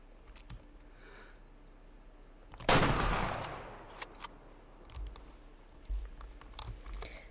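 SM-12 rifle fired in the hunting video game Way of the Hunter, a single sharp gunshot with a rolling tail that fades over a couple of seconds, followed by soft clicks and handling noises.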